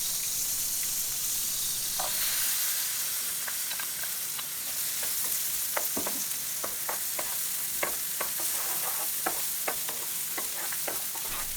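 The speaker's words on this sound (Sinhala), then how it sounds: "බටර් ටික රත් වෙනකොට ඒකට මම කුඩාවට කපාගත්ත ලොකු ලුණු ගෙඩියක් එකතු කරගන්නවා." Finely chopped large onion sizzling in hot butter in a pan, a steady bright frying hiss close by with scattered pops and crackles throughout, no voices.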